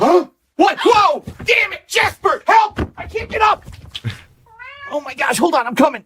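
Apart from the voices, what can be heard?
cat meowing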